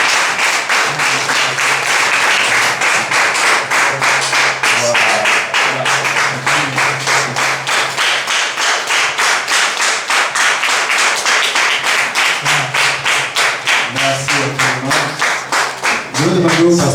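Loud, close rhythmic clapping from a graduation ceremony audience, quick regular claps continuing steadily, with a brief voice near the end.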